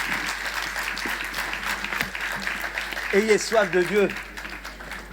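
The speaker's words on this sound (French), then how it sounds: "vous pouvez acclamer Dieu" A church congregation applauds God in a steady, moderately loud wash of clapping, while a preacher talks over it in French.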